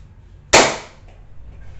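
A Nerf Rival Knockout blaster firing a single foam ball, one sharp close pop followed by a brief airy whoosh that fades within half a second, alone in a quiet room.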